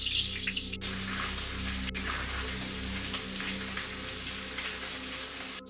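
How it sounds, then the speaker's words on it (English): Butter sizzling in a hot pan before whitebait is fried, a steady broad crackling hiss at moderate volume that runs unbroken across the whole stretch, with no voices. "I'm going to biff that butter in the pan now"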